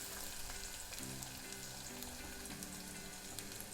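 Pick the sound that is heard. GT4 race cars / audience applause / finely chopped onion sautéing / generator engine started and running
finely chopped onion sautéing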